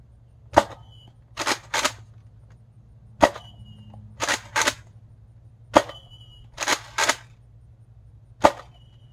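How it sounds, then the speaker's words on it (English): A Nerf Fortnite tactical shotgun firing foam darts outdoors: a series of crisp plastic snaps and pump clacks, single pops alternating with quick double clicks, fairly close against a low steady hum. "let's go and shoot these first 4 darts and see how far they travel."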